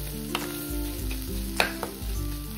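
Radish greens cooked with gram flour sizzle in a pan while being stirred continuously, a soft frying hiss with a few scraping strokes, no voices.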